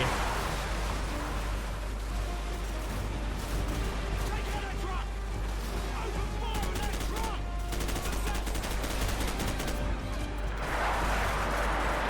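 Rapid bursts of gunfire and explosions in the video game Call of Duty 4: Modern Warfare crackle continuously under excited talking.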